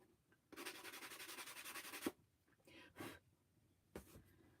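Hand sanding of a book stack decor piece: one long, steady, rasping stroke, then a few short scuffing passes after a pause, fairly faint and close, with no talking.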